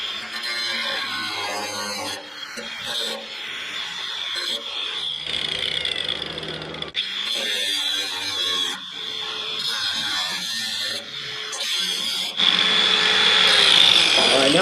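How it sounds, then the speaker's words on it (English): A cutoff wheel grinds through supported steel while building a clarifying tank at a mill site, a steady harsh whine with a bright high edge that runs almost continuously and swells louder near the end, close by. "I'm going to cut here, have it supported so it doesn't pinch my my blade on my cutoff wheel"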